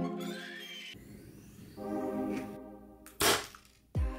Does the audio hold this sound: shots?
yes